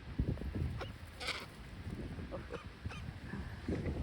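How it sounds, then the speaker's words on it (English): Harsh, honking calls from crows squabbling with a young seagull burst out in quick, irregular bursts over a noisy outdoor background, fairly close and overlapping. "Crows having an argument with the seagull."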